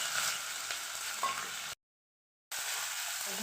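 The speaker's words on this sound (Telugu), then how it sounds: "ఆయిల్ వేడైపోయింది ఇప్పుడు గరం మసాలా దినుసులు వేసుకోవాలి తర్వాత పచ్చిమిర్చి" Whole garam masala spices and green chillies fry in hot oil, a soft, steady close sizzle with a few light crackles, broken by a brief total silence midway.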